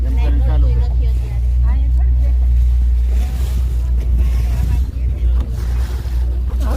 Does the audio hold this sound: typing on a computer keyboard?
no